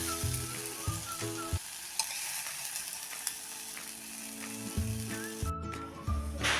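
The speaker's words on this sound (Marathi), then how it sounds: "कांदा टोमॅटो आपला चांगला परतून झालेला आहे" Steady sizzling of onion and tomato sautéing in a pan, with occasional clinks and scrapes of a spoon stirring, close and fairly quiet.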